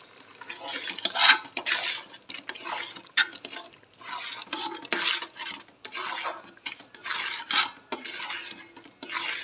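Coarse semolina being added to and stirred into a cucumber batter in a bowl, giving repeated scraping, rasping strokes in a steady rhythm, close and fairly loud, with no talking.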